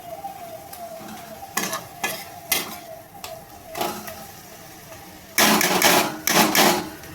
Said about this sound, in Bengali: এবার আমি সমস্ত উপকরণ দিয়ে মশলাটাকে ভালোভাবে কষিয়ে নেব।